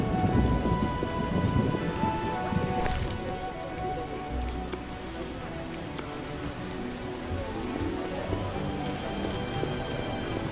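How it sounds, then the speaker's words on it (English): Steady heavy rain pours throughout in The Witcher video game, with a low rumble of thunder rolling in the background; no voices. "Raining cats and dogs."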